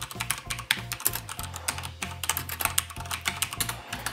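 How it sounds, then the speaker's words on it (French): Typing on a Cooler Master MasterKeys Pro L mechanical keyboard with Cherry MX Red switches, a close, rapid run of soft, deep-toned key clacks and thocks in quick irregular bursts, with no voice. "Ici, il s'agit de Cherry MX Red et on a une bonne nouvelle, c'est que le son est assez agréable puisqu'il a tendance à partir sur les"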